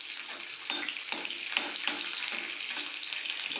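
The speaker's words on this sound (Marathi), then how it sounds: "शेंगदाणे आता छान लाल परतले गेले आता मी त्यात लसूण टाकून घेतो" Peanuts frying in a pan with garlic being added, a steady close sizzle broken by a few stirring scrapes and clicks, with no talking.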